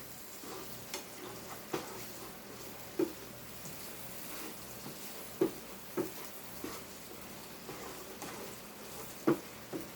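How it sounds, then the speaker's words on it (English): Bastard burrito filling sizzles in a frying pan as it is stirred, with a steady frying hiss broken by several sharp scraping knocks of the spoon against the pan. "Stir it some."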